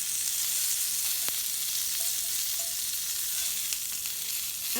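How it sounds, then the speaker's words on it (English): Asparagus frying in butter in a pan gives a steady, close hiss of sizzling with faint crackles and an occasional light scrape as the spears are rolled around, no talking. "I just kind of roll it around a little bit so all of the asparagus gets a little of the butter on it"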